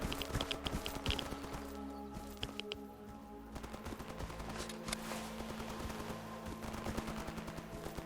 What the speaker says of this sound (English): Shots are definitely this way.